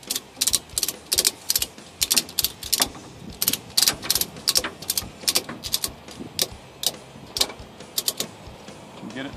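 A ratchet tie-down strap on a moto/utility pack is cranked tight, giving crisp metallic clicking bursts in a steady repeated rhythm, close and loud, with no talking.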